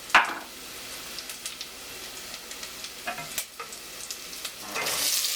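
Ground spice powder tipped into a hot pan for Jamaican curry tripe and beans, a sharp burst of sizzle at the start, then a low steady fry with light clinks and stirring, swelling into a louder hiss at the end.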